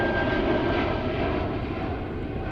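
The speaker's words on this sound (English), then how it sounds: "Let's go for the takeoff." A fixed-wing airplane's jet engines roar in a broad, steady rush during takeoff at Zurich airport, loud and continuous with no other sound standing out.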